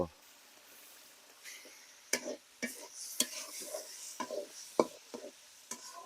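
Shrimp go into a pan of cooked-down spice paste for a Bengali prawn and Malabar spinach dish, giving scattered clinks of utensil on pan and light stirring over a soft sizzle, close and fairly quiet.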